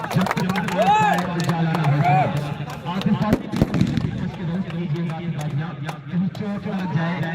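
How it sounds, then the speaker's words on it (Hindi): Fireworks and firecrackers go off at a village cricket tournament match in Barauli, Azamgarh, with a sharp crack near the middle. Bursts sound distant and muffled under almost continuous commentary, over a crowd-like background. "दूर दूर तक ये आतिशबाजियां ये पटाखे"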